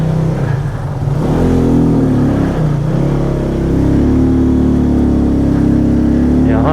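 A motorbike engine in a mountain valley setting, loud and close, running with a throaty idle that rises into revving, with faint talk underneath.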